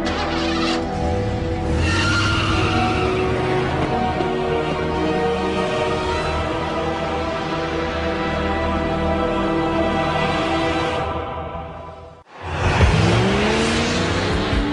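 Race cars rev and roar in a steady, loud engine drone with shifting pitch, then a brief cutout followed by a sharp revving surge and squeal near the end.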